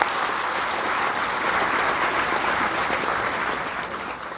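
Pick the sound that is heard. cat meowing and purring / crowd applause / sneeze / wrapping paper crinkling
crowd applause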